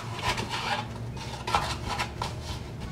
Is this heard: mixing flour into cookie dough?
yes